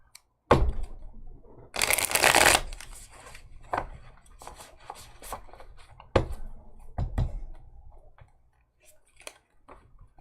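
Tarot cards are riffled and tapped close by, with a dense flurry of shuffling followed by scattered clicks and soft slaps against a surface.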